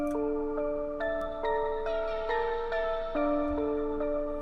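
A dry synth pluck with a bell-like tone plays a slow melodic sequence of sustained notes, clean and unprocessed, with no voices.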